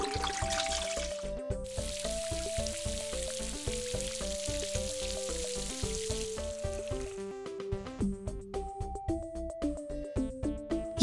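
In a PBS Kids science game, water pours for a thirsty dog: a steady, soft splashing hiss under cheerful plinking game music, then the splash stops and the melody carries on alone.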